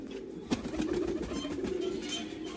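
Kasuri pigeons in a Punjab loft give a steady low cooing warble, near and continuous, with a sharp brief knock early on.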